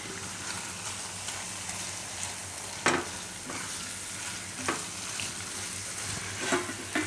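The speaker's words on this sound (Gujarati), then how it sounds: "હવે આપણે આ જે પરવળ શેકીને એનો માવો બનાવ્યો છે એ આમાં મિક્સ કરી દઈશું." Roasted parwal mash is stirred into a frying spice mixture, producing a soft, steady sizzle with occasional louder scrapes and knocks of a spoon against the pan.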